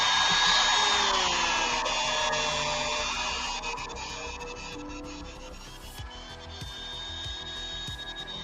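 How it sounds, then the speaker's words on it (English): A power drill whirs continuously as it bores holes into the back of a plastic Marvel Legends action figure, a close, loud steady whine that slowly drops in pitch, with small clicks and handling noises toward the end. "I can drill holes in the back where they plug in the back"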